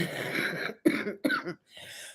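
A series of coughs, one drawn-out hack followed by two short sharp coughs and a softer exhale, close and clear.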